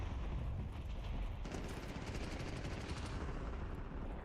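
Call of Duty gunfire crackles in fast, dense bursts like machine-gun fire, running continuously over a rumbling battlefield bed with no voices over it.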